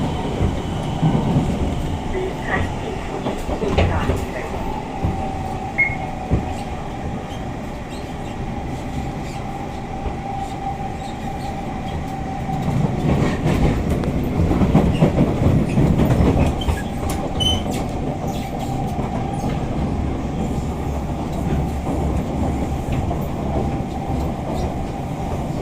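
An SMRT C651 metro train runs over a track crossing between Bukit Batok and Jurong, heard from inside a carriage: a steady rolling rumble with a faint hum, swelling into louder rattling clatter midway before easing back.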